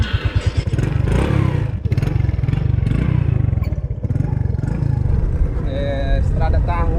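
Motorcycle pulling away on a muddy, waterlogged dirt road toward a village, its engine revving steadily and loudly close by, with clattering and scraping along the way and voices talking over it.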